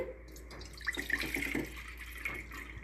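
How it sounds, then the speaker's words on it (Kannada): Water is poured into a pot while making millet laddu in an anganwadi kitchen, a steady close trickle running for a few seconds with light clinks. "ಇವಾಗ ಒಂದು ಬೊಗುನಿ ಒಳಗೆ ಸ್ವಲ್ಪ ನೀರು ಹಾಕೊಂಡ್ರಿ"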